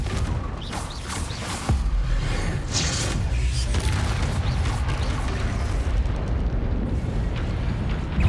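A Confringo fire spell explodes in Hogwarts Legacy, opening with a sharp cast and a whooshing burst, then a deep rumbling boom that keeps roaring steadily and loudly to the end, with no speech.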